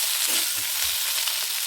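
Potatoes and tomato sizzle in a frying pan while a spatula stirs through them, producing a short burst of steady frying hiss with a few soft scraping knocks.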